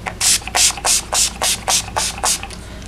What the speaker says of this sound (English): just spraying a couple squirts onto my face